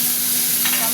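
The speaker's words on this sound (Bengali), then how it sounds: "পেঁয়াজটা গোল্ডেন করে ভাজা হয়ে গেছে। টমেটো দিয়ে দিচ্ছি।" Chopped tomato goes into a pan of golden fried onions, and a continuous close sizzle follows with a brief stirring rustle near the end.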